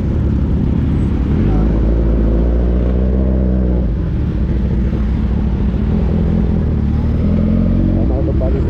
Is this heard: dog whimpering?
no